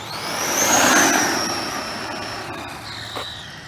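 A Redcat Shredder 6s RC truck with a power upgrade runs its motor at quarter throttle, a close high whine that swells, slides down in pitch and fades, then a brief second whine.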